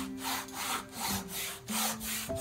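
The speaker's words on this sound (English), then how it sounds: "I'm having to rub a little bit harder on this board because it's got that rough surface." Wet cloth rubbed hard across a rough-surfaced chalkboard to wipe off marker, giving repeated scraping strokes at a steady rhythm, close and fairly loud, with no talking.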